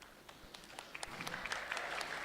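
Scattered audience applause at an Indonesian comedy show, building from faint to a steady patter of claps over a couple of seconds, fairly quiet and distant.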